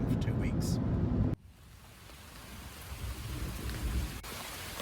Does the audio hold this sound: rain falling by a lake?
yes